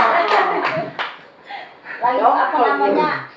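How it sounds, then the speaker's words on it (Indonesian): An audience at an Indonesian talk or sermon gathering claps briefly in a short burst, with a speaker's voice and some chatter continuing over and after the clapping. "Tepuk tangan dong."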